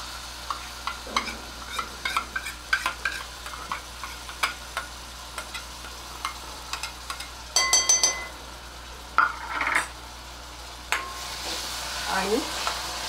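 Yogurt masala with dry spices stirred in a pan over low heat for restaurant-style mushroom masala, with a soft sizzle under repeated scraping and clinking of a spoon against the pan, close up.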